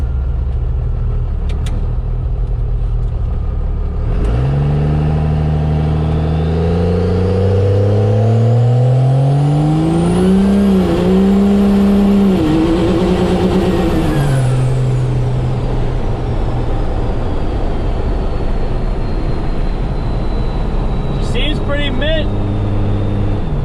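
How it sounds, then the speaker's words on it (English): A first-generation Cummins diesel pickup truck revs hard during a burnout, its loud engine note climbing in pitch, holding high with a wavering whine, then dropping back, alongside tire roar and the hiss of a nearby vehicle. "Probably should be a big burnout because that's usually how I do burnouts"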